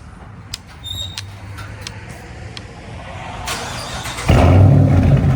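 After a few clicks and chimes, the straight-piped V8 of a Dodge Charger cranks and fires on a warm start, bursting into a loud, deep, rumbling idle close by for the final second.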